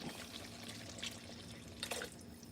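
Water is added to a cooking pot for crawfish étouffée, a faint, soft trickle and splashing with a few brief louder pours.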